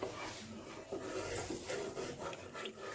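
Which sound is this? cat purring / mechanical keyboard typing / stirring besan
stirring besan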